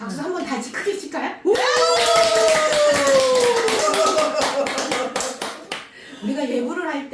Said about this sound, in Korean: 내가 박수 한번 다시 크게 칠까요?